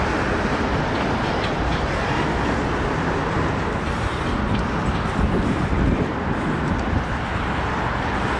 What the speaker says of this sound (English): the NX-10 shoves east on the Maybrook to roll the 18 Oak Ridge gondolas